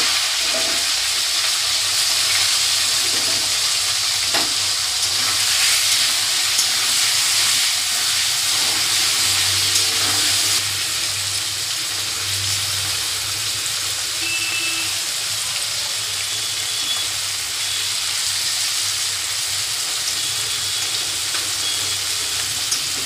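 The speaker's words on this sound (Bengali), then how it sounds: "এবার মাছটাকে ভালো করে ভেজে নেব" Patia fish fries in hot oil in a wok, making a loud, continuous sizzling hiss that holds steady throughout with no talking.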